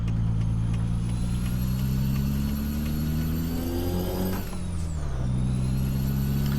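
A truck engine drones steadily while driving on Arizona roads in a trucking simulator game, a loud, low hum with a shifting pitch as the truck changes gear and an air brake hiss partway through.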